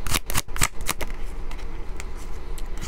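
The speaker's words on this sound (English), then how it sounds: "I'm gonna shuffle from here because it is easier." Oracle cards riffled and shuffled by hand, a burst of quick papery flutters followed by softer, sparser card snaps, close and alone.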